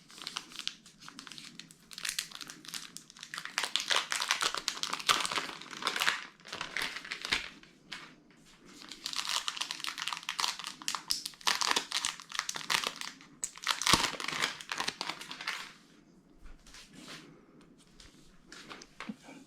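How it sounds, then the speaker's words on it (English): Plastic protective covers being peeled and crinkled off a NIU KQi Air electric scooter, a steady run of close crackling and crumpling in bursts over about twenty seconds with short pauses, no talking. "let's take off the remaining plastic"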